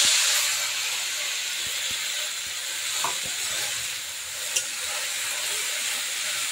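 Coriander spice paste sizzling in a hot kadai on a gas stove, a steady loud hiss and crackle up close, with faint clinks from stirring and no speech.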